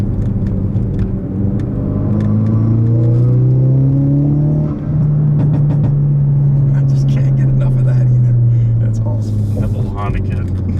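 A 2017 Ford Focus RS with a turbocharged engine pulls hard in fifth gear, its engine drone rising steadily in pitch and loud throughout, with people talking inside the car over it.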